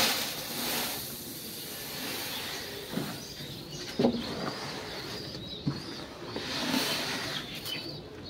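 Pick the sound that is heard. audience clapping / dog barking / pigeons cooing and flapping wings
pigeons cooing and flapping wings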